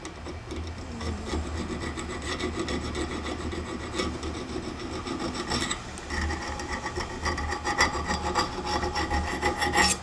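A steady, close rasping scrape of a metal test file being dragged back and forth across a heat-treated knife blade, skating rather than biting, with uneven repeated strokes and no talk.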